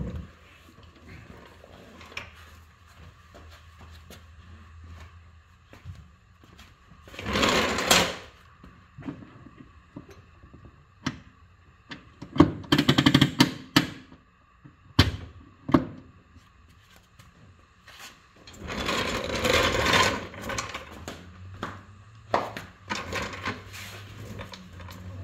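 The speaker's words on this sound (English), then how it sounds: "I'll go ahead and I'll pull the emergency brake and you can see how it operates" The hand brake lever of an MGB is pulled and released, making several ratcheting, scraping bursts separated by quiet gaps and faint clicks, close by in a workshop.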